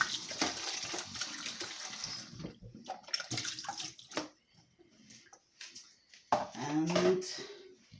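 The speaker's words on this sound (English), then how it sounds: "I'm just gonna wash my cucumber" Running tap water splashes over a cucumber being washed under a kitchen faucet, close and uneven, with gurgling bursts and short pauses as the stream is interrupted.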